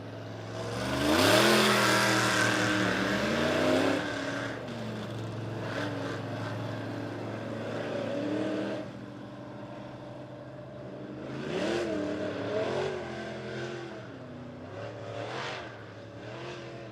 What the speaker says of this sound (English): going to get a little hot lap action. Work that track in just a little more.